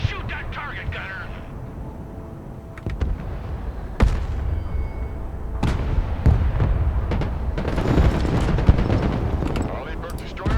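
M1 Abrams tank cannon firing during a Broken Arrow game battle, loud booming blasts over a dense roar of gunfire and explosions that builds toward the end, with no voices.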